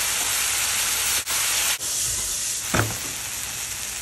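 Kaju curry masala of turmeric, coriander powder and garam masala cooks in a pan with a little water. A steady close hiss briefly cuts out twice, and a single soft utensil knock comes near the end.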